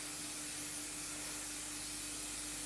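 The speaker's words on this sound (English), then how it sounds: "So we're just going to spray it over like this." Cooking oil sprays from a can onto raw chicken in a continuous close hiss with no breaks. A faint steady hum runs underneath.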